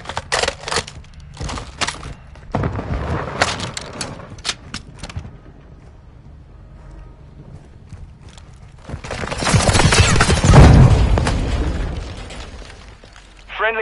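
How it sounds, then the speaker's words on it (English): Airstrike explosions rumble in the Call of Duty MWII video game. Bursts of booms and crackling blasts come first, then a lull, then a long, heavy rolling detonation swells and fades. "Friendly airstrike in the AO."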